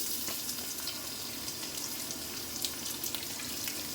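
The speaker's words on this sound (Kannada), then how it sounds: "1 ಗಡ್ಡೆ ಕಟ್ ಮಾಡಿರ್ತಕ್ಕಂಥ ಈರುಳ್ಳಿ ಹಾಕೋಣ." Continuous soft hiss of chopped onion frying lightly in a pan over a tempering of lentils and cumin, even and close, with a few faint pops and no talking.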